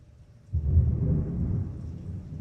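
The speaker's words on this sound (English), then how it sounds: "You heard that, right? Thunder." Deep thunder rolls in suddenly during a rainy spell and rumbles on for a couple of seconds, low and heavy, with no talking.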